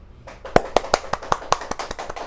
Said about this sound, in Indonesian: hebat, tepuk tangan dulu Mbak Ella.